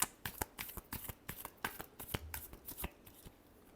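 Tarot cards being shuffled by hand, a quick series of soft, close riffling slaps in irregular bursts, quiet and alone.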